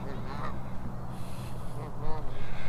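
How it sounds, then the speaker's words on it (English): A goose sitting on its nest outdoors honks repeatedly nearby, loud and close, over a constant background rumble. "There's a goose on a nest right over here."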